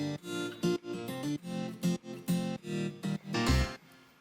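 Guitar part from a tropical house track, plucked chords in short rhythmic bursts that duck and swell under sidechain pumping, with no voices.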